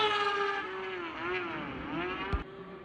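Race cars roar around a track on the last race weekend of summer, one continuous loud engine drone with pitch sweeping up and down as they accelerate and pass, plus a brief thump near the end.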